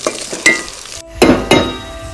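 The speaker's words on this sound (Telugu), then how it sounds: "ఆల్మోస్ట్ మనకు కాకరకాయ అనేది ఫ్రై అయిపోయిందండి" Bitter gourd curry fries in a pan with ginger, a close sizzle broken by several loud scraping stirs, with a brief drop to near quiet before the last strokes.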